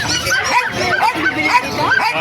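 Puppies at a pet market yip and whimper in thin, high, repeated cries, with several rising squeals over a busy background and voices talking.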